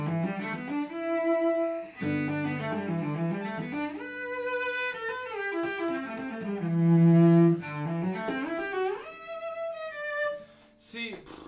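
Solo cello playing Popper's Etude No. 22, a continuous legato passage of rising and falling phrases with a rich low register, one sustained lower note mid-passage, heard close and fairly soft.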